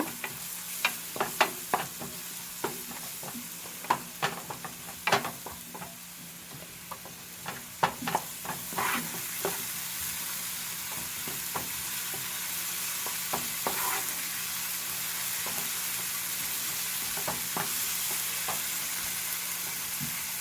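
Ginger garlic paste sautés in a pan for a crab fry, with a steady sizzle under repeated sharp scrapes and taps of a stirring spoon against the pan.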